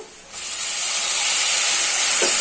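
Tomatoes drop into a hot pan of browned onions and set off a sudden loud hiss that rises sharply and holds steady as a bright, continuous sizzle.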